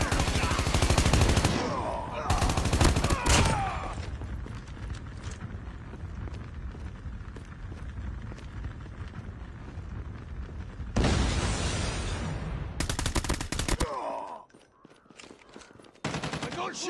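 Gunfire in a Call of Duty match: bursts of rapid automatic fire and loud blasts come in clusters, separated by quieter stretches of ambient battle noise and scattered shots.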